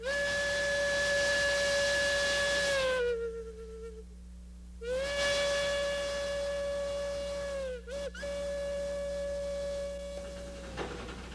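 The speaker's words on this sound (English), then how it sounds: "when you hear that little whistle and that ch-ch-ch-ch as the trains are backing down the mountain" A cog railway steam train whistle sounds two long, steady blasts with a short break between them, loud and close, followed by a hissing tail at the end.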